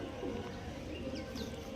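Star Kalanka pigeons coo softly in a loft, a low, rolling murmur over a faint background with a few thin higher chirps, no voices.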